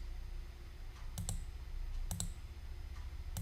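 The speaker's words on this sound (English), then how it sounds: "I'm clicking too fast on some of these guys" Computer mouse clicks while working in Revit software, arriving as quick double and triple taps in small bursts about once a second, crisp and close over a low steady hum.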